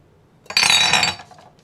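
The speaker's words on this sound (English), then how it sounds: "I'll get the rest of it from the neti pot" A ceramic neti pot being handled and refilled, giving a short clinking, rattling burst of hard-surface contact lasting under a second, close and fairly loud in an otherwise quiet room.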